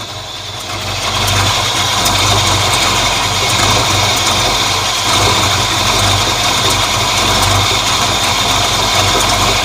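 Car engine idling steadily after an exhaust leak repair, a loud continuous low rumble with a faint high whine, constant and close for the whole stretch with no talking.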